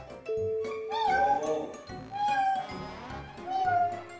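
A person imitates a cat, giving three rising and falling meows in a row, close and fairly loud.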